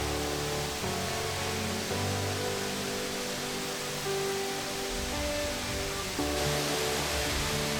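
Diamante waterfall in Costa Rica, the country's largest, pouring in a steady broadband roar of falling water, constant and fairly loud with no voices, under a faint tonal hum.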